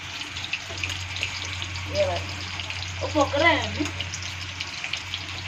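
Hot oil left in a pan after frying fish gives a steady, faint hiss, with a low hum beneath and brief murmuring voices partway through.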